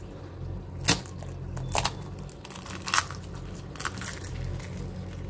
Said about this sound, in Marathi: साऊंड ऐकला की नाही छान खस्ता कचोरीचा?